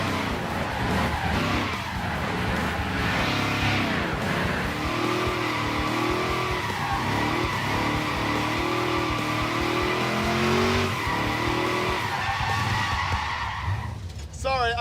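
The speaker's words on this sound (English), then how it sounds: "He's drifting it." A 1965 Ford Econoline van running with no oil pressure drifts with its tires squealing in long wavering howls over a loud, steady engine roar, with people talking now and then through the noise.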